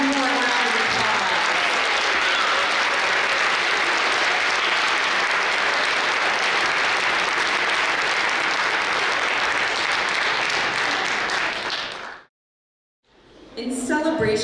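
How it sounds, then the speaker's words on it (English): Loud, sustained audience applause after a high school world music concert performance, thick even clapping for about twelve seconds before cutting to silence, then a brief return of sound. "Give them one more round of applause."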